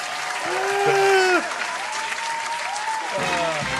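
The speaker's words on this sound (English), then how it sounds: "Yo, can we clap?" Applause and a crowd at a live hip-hop cipher session, with voices and whooping running over the clapping throughout; the noise swells early and then stays steady.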